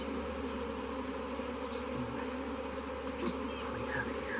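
Honey bees buzz around an opened beehive that had swarmed, a dense, steady droning hum from many insects close by, unbroken throughout.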